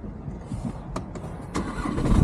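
A car engine cranks and catches with a couple of sharp starter bursts, then settles into a steady, fairly quiet idle, heard close up with no talking.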